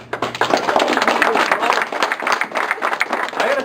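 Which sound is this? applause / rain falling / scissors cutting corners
applause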